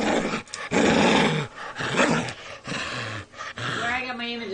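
A dog growls and grumbles in annoyance, loud rough bursts with brief pauses, ending in higher whiny vocal tones.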